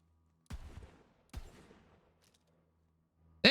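Jakobs pistol fire in the video game Borderlands 3: two single heavy shots about a second apart, each with a short decaying tail, then a sharp loud burst at the very end.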